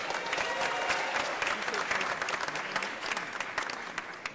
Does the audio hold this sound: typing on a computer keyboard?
no